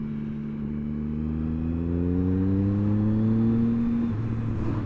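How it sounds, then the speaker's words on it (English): A three-cylinder motorcycle engine revs steadily upward in a smooth, rising drone, loud and close, then eases off near the end. "And that 3-cylinder engine, of course, sounds beautiful as you'd expect"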